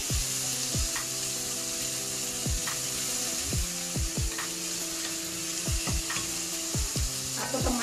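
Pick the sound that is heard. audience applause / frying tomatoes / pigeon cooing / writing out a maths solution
frying tomatoes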